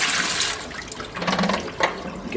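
Tap water runs over a film developing tank during a rinse, a close, continuous splashing gush that shifts in tone as the flow hits the tank, with no speech.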